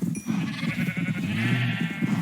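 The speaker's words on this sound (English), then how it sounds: "these sheep and cows are from that farm over there" Sheep on a video game farm bleat in a few close, wavering calls over a short moment, with no talk.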